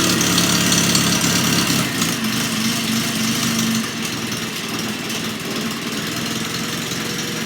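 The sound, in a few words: Farmall Cub tractor engine running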